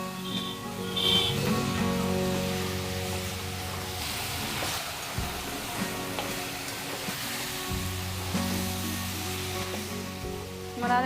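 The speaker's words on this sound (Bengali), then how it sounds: "দিয়ে দেবো লঙ্কার গুঁড়ো, আবারও ভালো করে নাড়বো।" Chalta pickle with chili powder is stirred in a pan, a steady sizzle with soft scraping strokes, close and continuous, with no talk.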